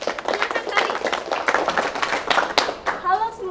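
An audience claps for a speaker at an event, producing a steady patter of many hands that runs throughout at moderate loudness.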